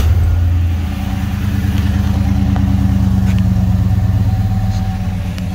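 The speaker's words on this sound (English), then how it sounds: "Starts right up, idle beautiful now." A 1967 Chevy II Nova wagon with a 5.3L V8 idles steadily and smoothly after starting, a close, loud continuous rumble with a steady low throb and no talking.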